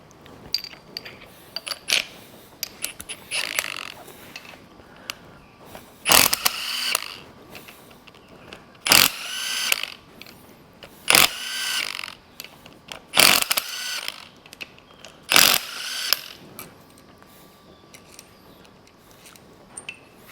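A ratchet wrench loosens the engine head bolts on a Hemi engine during a teardown. Repeated bursts of rapid clicking come close and clear, with pauses and faint metal clinks between the strokes.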